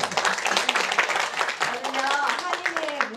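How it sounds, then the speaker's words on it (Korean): Audience applause at the opening of a Korean community cultural event, dense steady clapping from many hands filling the room, with voices talking over it. "박수, 이럴 때 박수."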